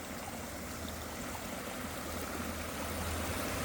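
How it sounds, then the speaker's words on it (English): A creek under a wooden footbridge on a hillside trail, its free-flowing water making a steady, dense rushing wash that fills the whole stretch without pause. "So some free-flowing water"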